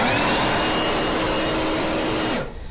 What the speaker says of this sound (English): Right, trusty blower.